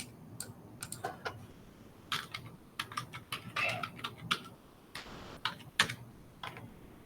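Computer keyboard typing while searching Google for the iris data set, irregular bursts of close key clicks with short pauses between, fairly quiet.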